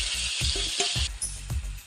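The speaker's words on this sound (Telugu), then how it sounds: "ఉల్లిపాయలు వేగినాక ఇట్లా వేసుకోవాలి ఫ్రెండ్స్" Onions fry in a pan with a bright hissing sizzle, punctuated by a few quick knocking stir strokes, close and brief, with no voices.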